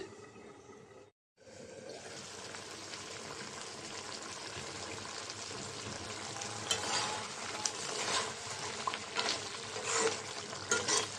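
Mixed vegetables cooked with mustard paste frying in a pan, a steady close sizzle with stirring scrapes that grows busier and louder toward the end, with no talk.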